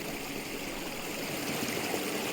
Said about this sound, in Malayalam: കംപ്ലീറ്റ് വെള്ളത്തിൻ്റെ ഒച്ചയാണ്